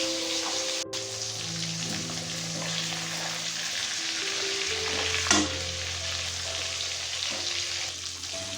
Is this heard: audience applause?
no